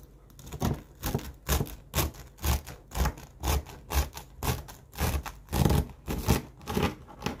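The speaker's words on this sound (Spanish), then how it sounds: "Voy a intentar cortar un trocito y ver cómo quedó por dentro." A knife saws through a crusty loaf of semolina bread, a rapid run of crisp crunching strokes repeating steadily for several seconds, close and fairly loud, with no voices.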